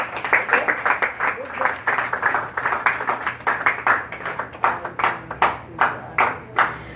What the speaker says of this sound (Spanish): Eso se merece otro aplauso para el Señor.